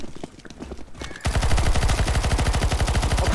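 Rapid automatic gunfire in the video game CS:GO Zombie Escape, loud sustained fast bursts starting abruptly after quieter scattered shots and clatter.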